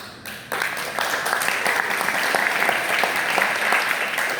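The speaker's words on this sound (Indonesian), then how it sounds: "Tepuk tangan" Sustained applause from an audience at a book discussion event breaks out sharply after a brief lull and continues steadily as dense, even clapping that fills the room.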